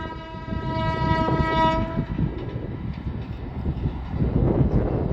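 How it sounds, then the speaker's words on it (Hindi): A train rumbles past nearby with a steady, loud roar, its horn sounding briefly at the start before the rolling noise carries on. "अब देखो जी सामने ट्रेन आ गई है।"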